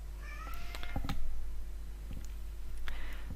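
An indoor house cat meows a few times near the microphone: short rising calls with small clicks and taps around them, fairly quiet, with no voices.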